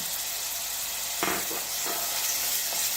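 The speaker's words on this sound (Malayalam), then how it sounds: "ഇപ്പോൾ എണ്ണ ചൂടായിട്ടുണ്ട് ഇനി ഫ്ലെയിം മീഡിയത്തിലേക്ക് മാറ്റാം ഇനി ഇതിലേക്ക് വെളുത്തുള്ളി ഇഞ്ചി പേസ്റ്റ്" Garlic ginger paste sizzles in hot oil over a medium flame while cooking dragon chicken. A steady, close hiss runs throughout, broken by a couple of brief stirring scrapes.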